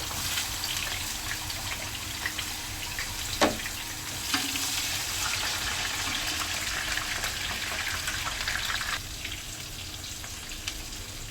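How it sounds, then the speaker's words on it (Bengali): Boiled jackfruit pieces, first cooked with salt and turmeric, fry in oil with a steady, dense sizzle and crackle, broken by a couple of brief utensil knocks. "আমি তেলে ভেজে নিব"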